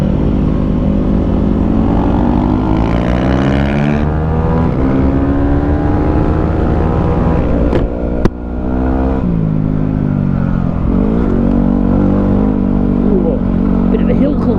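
A Yamaha WR250R dirt bike engine pulls hard in third gear on a hill climb, a loud, close, steady drone that holds high revs and briefly dips and rises again partway through.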